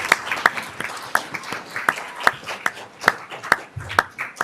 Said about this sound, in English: Let's give a final round of applause to our students from Luther Burbank